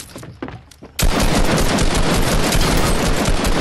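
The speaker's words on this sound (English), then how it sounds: "He just shot you through the fucking wall, bro." Loud, continuous automatic gunfire from the Fortnite battle royale video game, season 8, fired through a wall, begins abruptly after a second of quieter game noise and a few scattered shots, then rattles on densely to the end.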